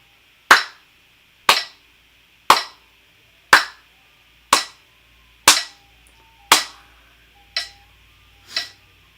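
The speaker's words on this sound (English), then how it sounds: "Let's clap it." A beginning violin class claps a 4/4 rhythm together: nine sharp, evenly spaced hand claps about a second apart, close and loud, with no talking in between.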